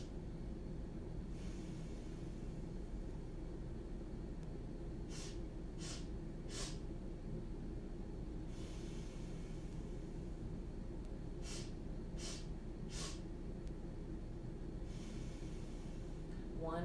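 Children do yoga bunny breaths, several rounds of quick sharp sniffs through the nose, each group of sniffs followed by a longer breath out, over a steady low background hum.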